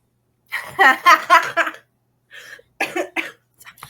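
A man coughs repeatedly in a burst of harsh, close coughs, followed after a pause by a few more shorter coughs.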